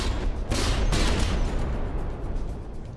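Naval gunfire and incoming shells in the warship battle game From the Depths, a dense roaring barrage of overlapping booms swelling loud and sustained, then rumbling and fading.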